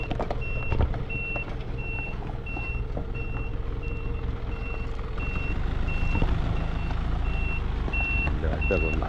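An Elf truck backs up at a corn weighing site, its reversing alarm beeping steadily and evenly throughout over a constant engine rumble, with faint voices in the background.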